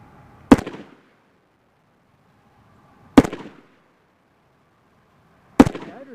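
Three loud, sharp gunshots from a Sig Sauer 556R rifle, each a close crack with a short decay, spaced about two and a half seconds apart with near silence between.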